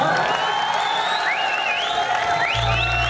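Audience applause and cheering at a live concert on the PCTE campus in Ludhiana, a steady loud wash of clapping that runs the whole time while a low sustained musical tone joins near the end.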